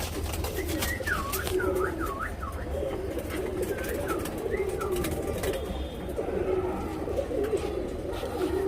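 Tournament racing pigeons coo in repeated soft, rolling phrases close by, over a steady low background hum with faint chirps, no talking.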